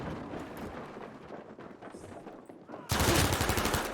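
FG-42 rifle fire in Battlefield V, a sudden loud burst of rapid automatic shots breaking in near the end, after quieter game ambience with distant shooting.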